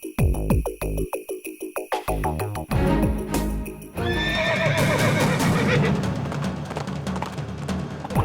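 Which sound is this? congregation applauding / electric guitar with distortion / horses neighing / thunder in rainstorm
horses neighing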